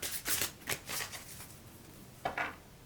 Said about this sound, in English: I love these cards, but they're so big it's hard to shuffle